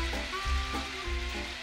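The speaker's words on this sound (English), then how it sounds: "Now that the bacon's really got going, you can hear it." Bacon frying in a pan sizzles loudly and steadily, a dense crackling hiss with faint popping throughout, close up and with no voices.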